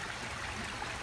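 An air-release aerator bubbles and churns water in a koi pond, giving a steady, soft, even wash of bubbling and trickling without breaks or voices.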